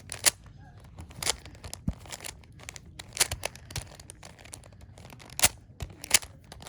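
A Rubik's Cube being shuffled, quiet close plastic clicks and scrapes in short irregular bursts, with no talking.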